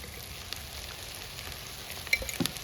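Ginger and garlic paste frying with chicken pieces and salt in a pan: a low, steady sizzle with a few louder stirring scrapes near the end, close up and fairly quiet, with no voices.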